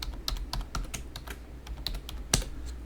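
Close, quiet typing on a computer keyboard while entering text in SolidWorks 2016, a loose run of light key clicks with one sharper stroke near the end, over a low steady hum.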